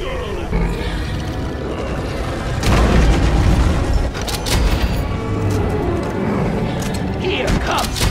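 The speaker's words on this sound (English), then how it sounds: "Can I hear a rocket launcher?" A rocket launcher explosion booms in the video game Deep Rock Galactic, a loud dense blast and rumbling roar amid chaotic game noise, with voices shouting over it.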